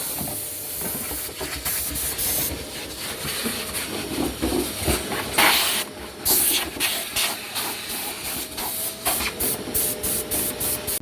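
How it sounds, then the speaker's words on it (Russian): Compressed air blows dust out of a Toyota Prius 20 hybrid battery pack in a repair shop, with loud hissing bursts in irregular pulses and a vacuum cleaner droning underneath. "Сейчас Макс будет пылесосить, а я буду продувать"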